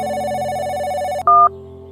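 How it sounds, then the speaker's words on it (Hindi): A telephone rings on an outgoing call, a sustained electronic ringing tone that cuts off and gives way to a short, louder higher tone followed by a quieter steady hum. "घंटी तो जा रही है।"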